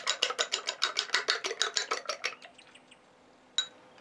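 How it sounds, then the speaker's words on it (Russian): Eggs whisked with a fork in a bowl for a muffin batter, a fast regular run of light clicking strokes that stops after about two seconds, then quiet and one last tap, close and alone. "Яйца взбиваем вилочкой до соединения белка и желтка."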